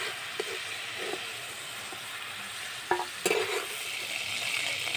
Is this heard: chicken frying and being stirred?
yes